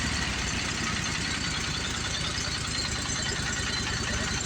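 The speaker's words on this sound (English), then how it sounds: "And I think the motor actually sounds good." A Briggs and Stratton 25hp V-twin engine with an oil leak and power loss runs steadily at low throttle, a continuous close, even low rumble with a regular pulsing beat and no voices.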